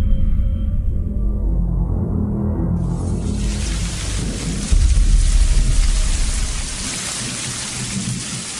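Heavy rain pours steadily, with deep thunder rumbling through a night storm, and a loud surge of downpour takes over partway in. The sound is continuous and close, with no voices.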